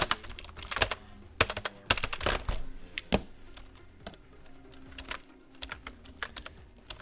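Close-up clatter of computer keys in irregular bursts, with rapid clicks and heavier thumps from larger keys, no voices.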